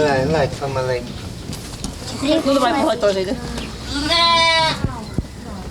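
Goats and sheep bleat at a regional fair, with several wavering calls, the longest and clearest near the end, rising over crowd voices and people talking nearby.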